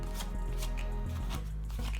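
A deck of reflective, slightly metallic-feeling cards is shuffled up close, making a dense, continuous riffling and slapping sound with no talk.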